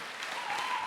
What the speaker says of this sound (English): give yourselves a round of applause just for being alive.